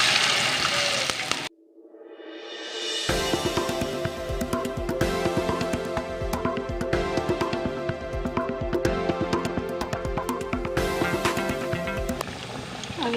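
Potato and gram flour pieces dropped into hot oil in a kadhai: a brief hush, then a sudden loud sizzle that settles into continuous bubbling and crackling frying with sharp pops throughout.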